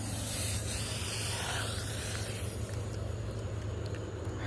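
A shaken Coca-Cola Zero Sugar bottle sprays out in a steady, close, continuous hissing rush with a low hum underneath.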